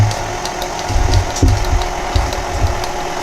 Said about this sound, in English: now I'm going to mix this on a very low speed for just about 30 seconds